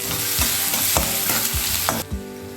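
Finely chopped onion fries in a pan, with a steady sizzle broken by about five rhythmic scraping stirs, each a short broadband sweep; the frying drops away sharply near the end, leaving one last scrape.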